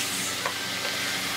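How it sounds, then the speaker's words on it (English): Mushrooms sizzle in butter with continuous close frying crackle from a hot pan, steady and hissy, with a faint stir or scrape midway. "sizzling mushrooms"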